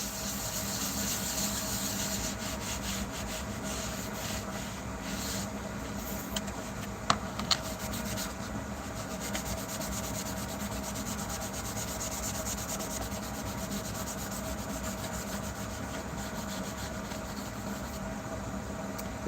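Steady rubbing as a tabletop model's surface is buffed by hand, a continuous close scratchy swish running the whole time with a couple of small knocks near the middle.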